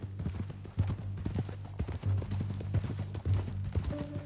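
Hooves of a horse clip-clop in a steady walking rhythm on the ground in Red Dead Redemption 2, fairly close and distinct, with a brief low murmur near the end.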